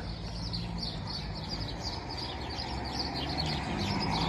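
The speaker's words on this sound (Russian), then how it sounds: "птички поют" Birds chirp and tweet faintly over a steady low background rumble on an early-morning town street in La Cala, Benidorm, Spain, with distant traffic.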